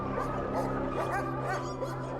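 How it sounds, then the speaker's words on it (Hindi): Several dogs bark and yelp together in quick, overlapping bursts, fairly close and continuous under a constant low hum. "ये कुत्ते ऐसे क्यों भौंक रहे हैं?"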